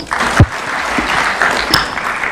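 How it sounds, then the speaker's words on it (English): An audience applauds loudly and steadily after a presidential address at a national vision event in Kenya, with dense clapping and a few sharper claps and thumps near the front. "Another round of applause for His Excellency"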